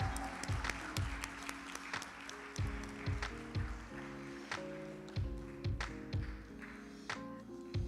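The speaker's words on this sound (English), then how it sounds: "Let's give them a round of applause, y'all." School audience applauding as 2025-26 National Junior Honor Society inductees enter the room at Lee A. Tolbert Community Academy, continuous clapping heard alongside a steady, rhythmic musical accompaniment with repeated thumping beats.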